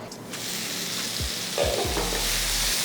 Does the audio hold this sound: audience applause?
no